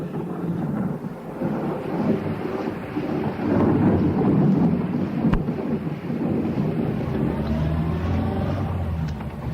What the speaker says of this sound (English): Then the storm began quite suddenly, and everything was thunder.